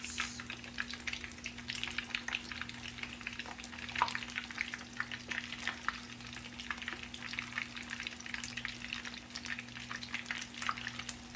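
Battered shrimp tempura fries in hot oil, a soft, even bubbling sizzle with faint scrapes and taps as tongs pull the clumped pieces apart, under a low steady hum.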